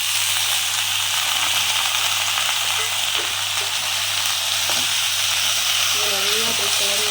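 Cut snake gourd pieces drop into a pan of sautéed onions and fry with a steady, loud, close sizzle, with a brief voice near the end.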